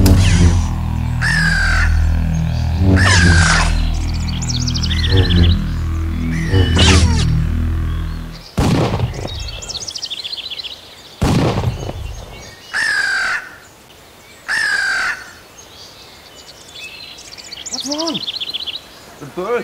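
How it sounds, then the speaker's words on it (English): Birds perched in a tree in the Parrots On Target shooting video game give loud, repeated harsh caws in separate bursts, first over a low droning game tone, then more spaced out with short gaps between calls. "Birds, I can't get them off the tree."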